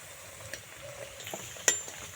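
Thekua, sweet wheat dough pieces for Chhath Puja, deep-fry in oil with a faint, steady bubbling sizzle, a couple of small taps and one sharp utensil clink near the end, close and quiet.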